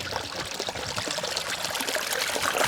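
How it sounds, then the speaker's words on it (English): Water flowing through a drain pipe at a beaver pond, a steady close pouring and trickling rush that keeps up throughout with no talking. "The water is flowing."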